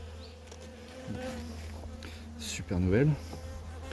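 Honey bees at a hive frame during a small artificial swarm inspection: a steady, close insect buzz throughout, with a person speaking briefly over it near the end.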